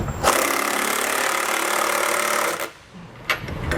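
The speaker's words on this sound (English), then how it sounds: "So I'm going to use the impact on the outside with my socket on the back end." A handheld impact wrench with a socket drives bolts on a fifth wheel pin box of a 2021 Forest River Cherokee trailer, giving one loud, close hammering rattle for about two and a half seconds, then a pause and a brief short burst.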